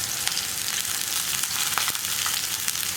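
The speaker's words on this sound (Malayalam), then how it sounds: "ഇനി നമുക്കിതൊന്ന് വഴറ്റിയെടുക്കാം." Shallots and curry leaves sautéing in a pan for a Kerala-style mackerel fish curry make a continuous close sizzle with scattered sharp crackles and pops.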